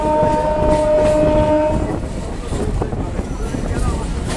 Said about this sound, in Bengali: পাতিপুকুর থেকে আমাদের ট্রেন ছেড়ে দিয়েছে দেখো পাতিপুকুর ডিপার্চার হচ্ছে